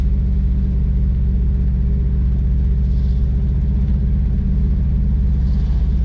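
A stolen, abused truck engine revving at about 2,000 RPM while struggling to free rev, a loud, steady, close-up low rumble with a rough, even throb and no talk.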